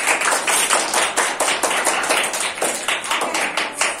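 Students in an online class clap their hands in a quick run of sharp, uneven claps picked up through a laptop microphone, with no voices over them.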